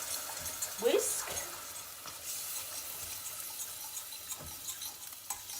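Beef stock is whisked in a hot pan, with a low bubbling simmer and irregular scraping whisk strokes, fairly quiet and close, with no talking.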